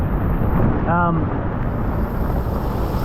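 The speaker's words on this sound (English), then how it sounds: "we're in the leading edge of the storm. We're getting about 35 knots, 36, 37." Storm winds of about 35 knots buffet a sailboat, a loud, steady roaring rush of wind noise across the whole span, with a brief voice heard early on.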